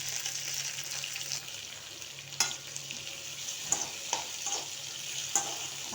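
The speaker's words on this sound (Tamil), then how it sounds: "வெங்காயம், தக்காளி, பச்சை மிளகாய் மூணையும் போட்டு நல்லா வதக்கலாம்." Onion, tomato and green chili sautéing in hot oil for a home-style paneer kurma, a constant soft sizzle with occasional clinks and scrapes of stirring, close and quiet, no talking.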